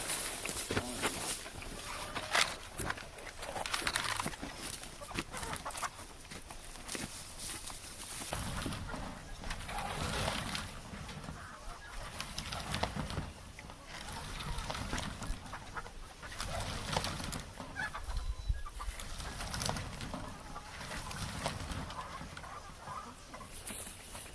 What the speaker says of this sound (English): Last stop for the night is the hens